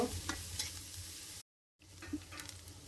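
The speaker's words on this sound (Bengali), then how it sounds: "প্রথমে পেঁয়াজ দিলাম, পেঁয়াজটা 2-3 মিনিট একটু ভেজে নেব" Onions fry in white oil, a faint sizzle with a few spatula scrapes, cut by a brief moment of silence before the crackle resumes.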